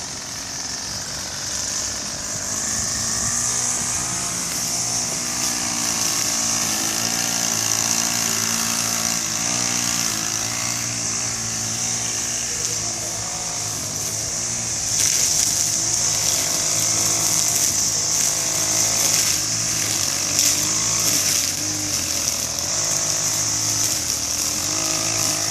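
A city crew's mower cuts seven-foot-tall grass outdoors in East Dayton, its engine a loud, steady drone with a whining high hum that runs without a break, swelling slightly partway through.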